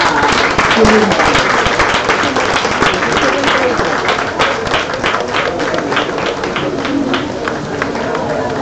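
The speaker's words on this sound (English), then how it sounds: "another warm round of applause for Elijah Kilimo, the winner of the first Energy for All" Audience applause for Elijah Kilimo, winner of the first Energy for All competition, a dense sustained round of clapping with crowd noise throughout, loud and steady.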